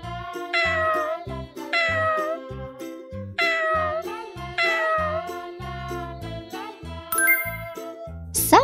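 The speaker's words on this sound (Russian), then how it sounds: "Кот." A cartoon cat meows several times in a row, loud and close, over bouncy children's music with jingling chimes.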